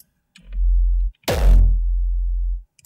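Two synthesized hardstyle kicks layered with bass: a short booming thump, a brief gap, then a harder distorted hit whose deep bass tail sustains for over a second before cutting off, loud and alone.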